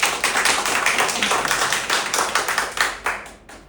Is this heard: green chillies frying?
no